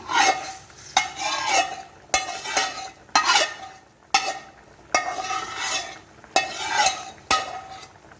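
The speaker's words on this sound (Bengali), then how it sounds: "এখন আমি এর মধ্যে ভেজে রাখা মাছটা দিয়ে দিচ্ছি" Fried rui fish goes into a simmering curry, with repeated sharp stirring scrapes and clinks of a spoon against the pot over a steady bubbling sizzle, close and moderately loud.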